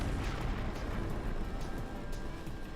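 Explosions in the video game Empyrion, a dense, continuous rumbling roar of blasts that stays loud throughout, with no talking.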